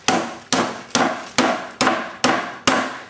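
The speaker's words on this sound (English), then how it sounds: "batten the meat out, as you can see here" Pork loin is pounded flat in heavy, evenly spaced thumps, seven close, loud blows about half a second apart, each decaying quickly before the next strike.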